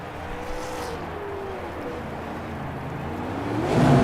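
Short track race car engine revving hard through a burnout, a steady loud drone with rising pitch sweeps, swelling louder near the end with tire noise.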